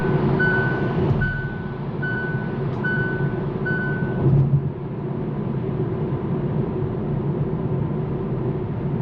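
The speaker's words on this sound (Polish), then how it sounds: "Jest informacja o niebezpieczeństwie w martwym polu." A Kia Proceed GT-Line sounds its blind spot warning as a series of about five evenly spaced electronic beeps over steady road and engine noise inside the moving car.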